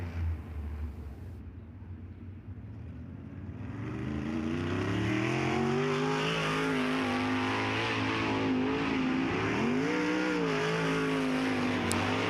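A sprint car roars around Lakeside Speedway during a qualifying lap, its engine note building from a distant hum into a loud, steady, high-revving drone with pitch sweeps as it accelerates and passes near.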